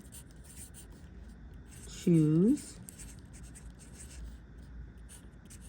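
Pencil writing on paper during an earthquake lab worksheet: a faint, steady scratch runs throughout, and a person briefly says a single word partway through.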